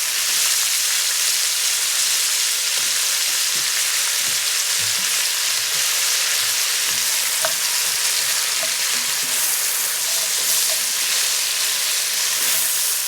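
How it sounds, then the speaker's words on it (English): Sliced onion and diced frozen celery frying in a pan, a loud, dense, even sizzle running throughout, with faint soft stirring knocks beneath it and no voices. "I'm just going to cook these until the onions are kind of golden"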